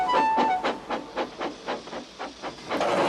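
A red steam locomotive pulling freight cars in a Roblox game chuffs in a regular rhythm of about ten puffs, close and clear, ending in a sustained rising hiss of steam.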